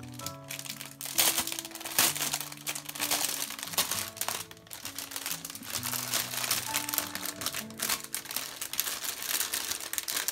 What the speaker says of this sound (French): j'ai l'impression que j'ai fait beaucoup de bruit avec le plastique